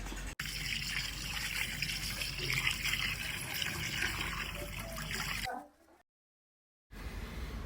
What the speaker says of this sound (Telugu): ఇప్పుడు నీళ్ళు పోసుకుందాం